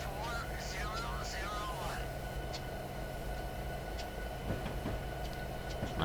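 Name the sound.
locomotive running in Train Simulator video game, Alaska Railroad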